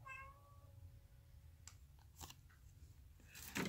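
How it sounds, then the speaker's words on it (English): A cat gives one drawn-out meow at the start, followed by faint clicks and rustling in a quiet room. "The meowing is my cat Rose."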